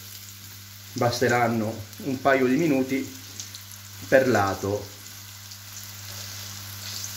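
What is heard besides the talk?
pumpkin slices frying in oil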